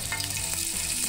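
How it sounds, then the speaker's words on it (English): Elk meat hits hot canola oil with a loud, continuous sizzle and crackle, hissing brightly throughout with no voices. "Let's do a test one, see what kind of sizzle we get."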